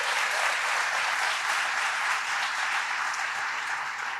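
Sustained audience applause at an evening recognition ceremony, the Ordre Victorien gala, rolling steadily as a dense wash of many hands throughout, loud and close with no pause.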